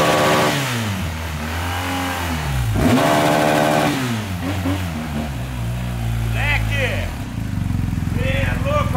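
A BMW 1250 motorcycle engine revs repeatedly, rising and falling in pitch with a clattering mid-range roar, close and loud throughout.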